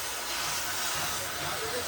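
A cutting torch gives a steady, broadband hiss as it cuts through a broken leaf spring from a Tata 5530 tipper truck in a roadside workshop. The hiss holds at an even level and stays close, with faint voices behind it.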